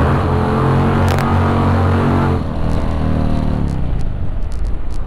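An Indian Chieftain Dark Horse motorcycle with its exhaust opened roars loudly at close range, its deep engine note dropping sharply midway as it downshifts, then rumbling on at lower pitch.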